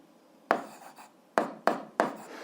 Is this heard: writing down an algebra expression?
yes